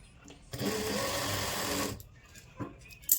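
A sewing machine stitches a lined kurti in one steady burst of about a second and a half, then stops, followed by a short rustle of cloth handling and a brief knock.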